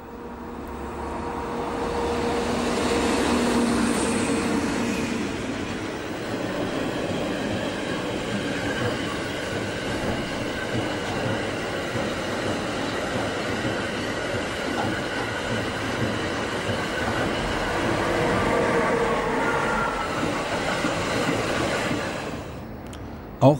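A DB Class 140 electric locomotive, number 140-870 of the Elbe-Weserbahn, hauls a freight train past. A loud, sustained rolling rumble and wheel noise swells and lingers for over twenty seconds, with no voices.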